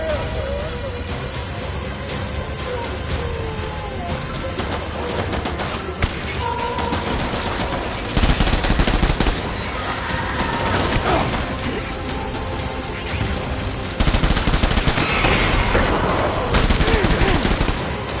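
Gunfire in the video game Death Stranding: a dense, loud continuous barrage of shots and mechanical clatter lasting throughout, with heavier bursts near the middle and end.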